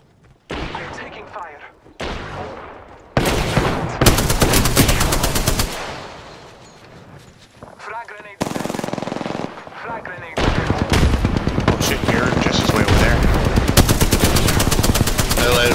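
Rapid automatic gunfire and single shots from Apex Legends, loud bursts and sustained volleys with brief pauses, while players talk over the action.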